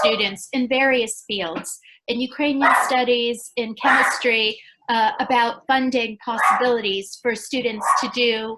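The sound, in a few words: dog barking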